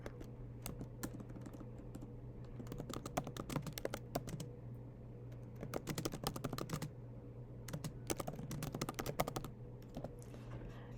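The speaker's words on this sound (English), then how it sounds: "I can type my template in the box." Typing on a computer keyboard while entering a tenant agreement template into property management software: bursts of quick, clattering keystrokes come in irregular runs with short pauses over a steady low hum, close and clear, with no talking.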